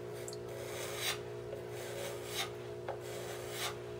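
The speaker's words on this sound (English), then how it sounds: "I wanted you to see the actual speed that I use when I'm scraping" A wooden scraper drawn slowly across wood in deliberate strokes, a steady close rasping rub with a few faint swells over a constant low hum, no voices.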